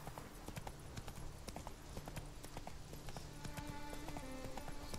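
A horse gallops in The Witcher 3, its hooves clip-clopping in a steady, rapid rhythm at moderate distance over a continuous background bed, with faint tonal music hints underneath.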